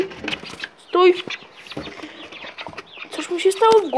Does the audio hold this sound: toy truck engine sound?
no